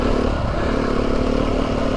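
A Beta 390 RR enduro motorcycle ridden off-road on trails, its engine a loud, steady rumbling drone heard up close throughout, with some rattle and clatter mixed in.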